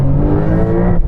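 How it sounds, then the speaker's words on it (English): A Porsche 911 GT3 accelerates hard on an autoroute, its engine a loud, close, sustained roar with layered harmonic tones, heard for about a second without speech. "This car is just brutal when you put your foot down."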